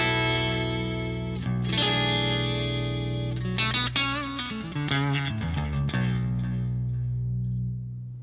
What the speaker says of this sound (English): we've split this single coil, humbucker into a single coil, and we get this sound